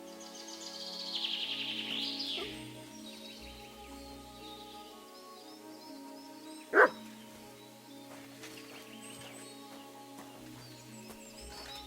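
Mutt the dog barking in Kingdom Come: Deliverance II, one sharp bark standing out midway over a quiet outdoor ambience with chirping birds.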